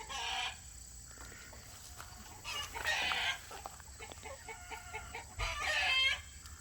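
Chickens cluck and cackle in bursts outdoors in a chicken tractor, with a rooster-like call near the end; moderately close, over a low rumbling background and no talk.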